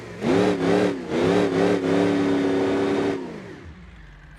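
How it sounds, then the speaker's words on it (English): A stretch limousine in BeamNG.drive does a burnout, its engine revving hard in rising and falling surges that hold a loud, steady roar for about three seconds before cutting off abruptly. "let's see what the burnouts are like"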